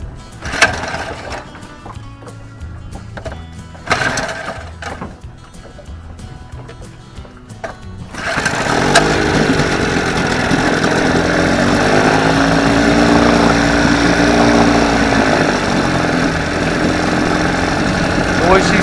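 A 1962 Johnson 18 hp outboard motor is started after a few short cranking bursts, then runs steadily with a buzzing, fluttering drone close to the listener.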